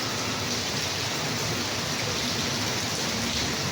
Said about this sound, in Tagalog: Sa ibang lugar mainit, dito malakas yung ulan.